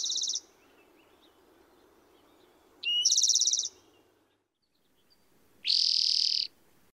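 A towhee's questioning call from the bushes, three separate buzzy, rising calls spaced a few seconds apart, clear and fairly close against a quiet background.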